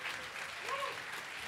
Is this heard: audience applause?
yes